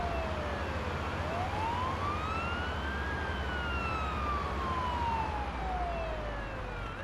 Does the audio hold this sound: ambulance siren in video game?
yes